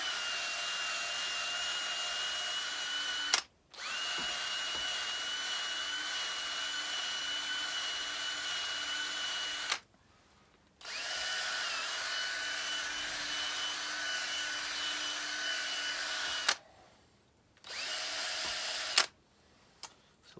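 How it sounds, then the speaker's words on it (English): A power drill fitted with a brass brush whirs steadily in long runs while cleaning valve bores on a Kohler K241 engine, stopping briefly a few times before starting again, with a scrubbing brush texture in the constant high hiss. "on the drill, so I'll try cleaning that up a little bit."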